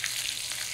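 Pieces of boal fish tail fry in oil in a wok, a short steady hiss of sizzling heard from a little distance with no voices.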